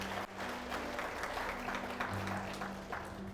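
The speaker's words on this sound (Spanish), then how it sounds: "aplauda a Cristo" Church congregation applauding during a Spanish-language sermon on giving, a steady wash of clapping with a low hum underneath, moderately distant and continuous throughout.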